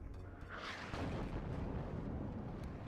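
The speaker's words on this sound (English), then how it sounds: "I think that was Hippie accidentally artillerying his own troops, but not doing any damage to them, really." Artillery strike in the war strategy game WARNO, a dense, rumbling blast wash with a crackling burst early on, sustained booming noise filling the few seconds without clear separate impacts.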